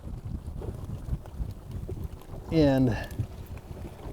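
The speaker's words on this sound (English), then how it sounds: "With the wind blowing today" Steady wind buffets the microphone on a boat while walleye fishing on Mille Lacs lake, a constant low rumble with a voice speaking briefly over it.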